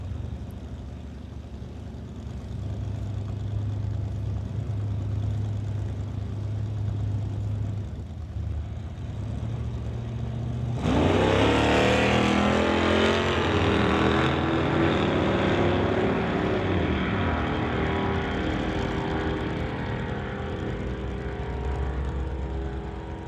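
Drag racing cars, including a Camaro, run the quarter mile: a low engine drone builds, then a loud roaring pass swells suddenly and slowly fades into the distance.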